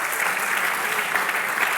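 A church congregation claps together at a pastor's call, a dense, steady wash of applause filling the space evenly for a couple of seconds, with no break in the sound.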